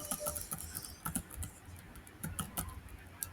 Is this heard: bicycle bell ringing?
no